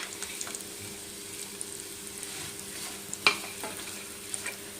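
Ginger and jaggery chutney stirred in a pan as the jaggery melts, with a soft, steady sizzle under light scraping of the spoon and an occasional sharper clink, close by with no speech.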